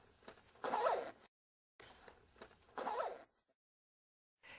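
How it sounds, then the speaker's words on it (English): A zipper closes the soft carrying case cover of an AED Plus defibrillator in two quiet, close, quick runs separated by a short pause. "Zip the cover closed"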